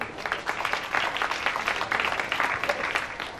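An audience claps together in a hall, a dense, even patter of many hands held steadily at moderate loudness from start to finish.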